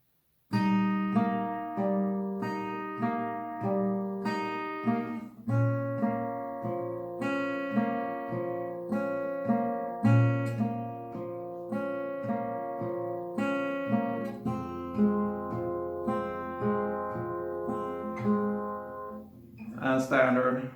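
Acoustic guitar slowly strumming the chord progression of a song, with each chord ringing out in a steady, even rhythm, close and clear, with no talking.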